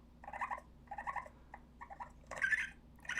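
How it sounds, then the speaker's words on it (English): Recorded grunts of a baby jackrabbit used as a predator call, heard as several short, nasal, squealing bursts spaced in an uneven rhythm, close and fairly loud with no talking over them. "This is GS Grunting baby Jackrabbit."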